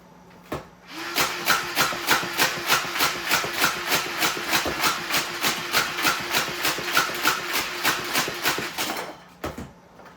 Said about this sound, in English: The automatic mode does go really fast, almost like a flywheel blaster.